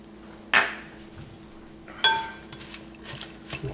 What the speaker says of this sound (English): Mix that up a little more.